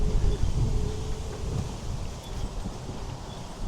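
Cold wind gusts across a microphone outdoors at a sunny park, a steady low rumbling buffet that swells and eases without pause, with no voices.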